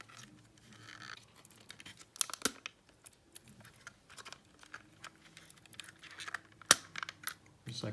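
The plastic body shell of a Kyosho Mini-Z RC car is worked off its chassis in a quiet series of small clicks, taps and snaps, with a couple of sharper plastic pops standing out.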